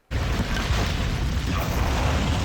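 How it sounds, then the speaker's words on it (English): An explosion from the Smallville TV show, a loud, sustained roaring blast with heavy low rumble that starts abruptly and holds steady for over two seconds, no speech. "Smallville does love their explosions, don't they?"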